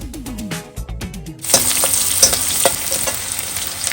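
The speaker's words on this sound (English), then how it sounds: "saute this well" Garlic and red chilies saute in a hot pan for an aloo bhindi dish, opening with a few quiet knocks before a loud, steady sizzle bursts in at the midpoint and carries on, with occasional stirring scrapes and no talking.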